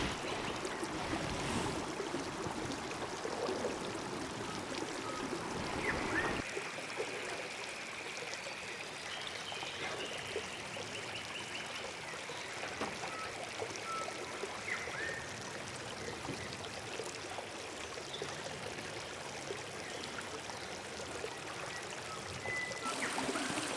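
A small waterfall near a campsite keeps up a steady, moderate rush and splash of flowing water throughout, with a faint high tone drifting in the middle.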